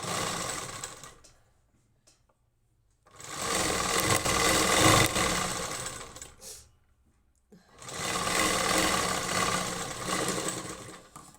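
Sewing machine stitching a blouse, with two long, steady whirring runs of stitching separated by quiet pauses and a brief burst in between.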